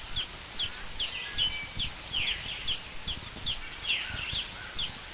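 A wood thrush sings in a Canadian maple woodlot, repeating short, clear whistled phrases in a steady rhythm at moderate distance over faint background noise.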